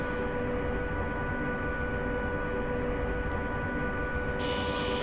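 A Class 85 electric locomotive in Train Simulator Classic, running between Stafford and Rugby, gives off a loud, constant rumbling engine drone with a steady hum, heard alone throughout.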